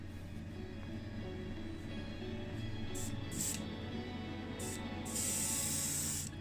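Spray bursts of green clear coat hiss onto a Matchbox No 20 Chevrolet Impala taxi model being customised as a lowrider, several short bursts and then a longer one over a steady low background hum.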